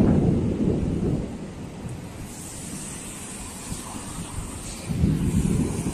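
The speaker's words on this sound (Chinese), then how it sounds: "前面一直在这个打雷闪电" Deep rolling thunder from a storm over the flooding Yangtze River in China, loud low rumbles at the start and again near the end, with steady wind and rain noise filling the gap between.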